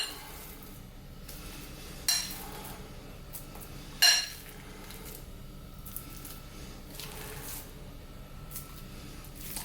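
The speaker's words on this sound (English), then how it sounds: "let's get some potatoes and mash. Layer that on the top." Mashed potato being layered onto a shepherd's pie with a spoon, giving soft squishes and two sharp utensil clinks against the dish in a quiet kitchen.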